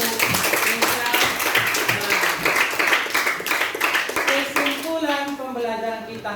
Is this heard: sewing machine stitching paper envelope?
no